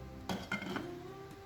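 A lid set onto a simmering pot of homemade tom yum soup, giving two quick metallic clinks close by, followed by a soft rattle and quiet bubbling.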